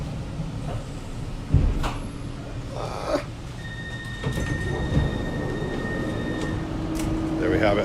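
Tram doors slide open with a mechanical clunk and whir, amid the rumble of the car and a few short beeps.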